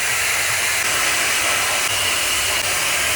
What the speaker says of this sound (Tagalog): Ready for blower! Yan yung blower ko guys, very aesthetic.